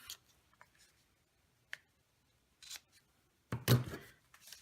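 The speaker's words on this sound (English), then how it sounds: "after I get that pretty secure, then I'm just going to cut it off" Scissors snip off the ribbon ends after a bow is tied on a paper craft, heard as a few faint, close clicks followed by one louder, crisp cut near the end.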